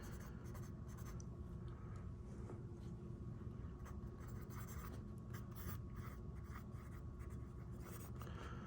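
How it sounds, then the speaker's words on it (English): Pen or pencil scratches steadily across paper while notes are written at the top of an alphabet planning document, a faint, continuous rubbing with small irregular strokes and no talking. "So in your notes, let's write this at the top."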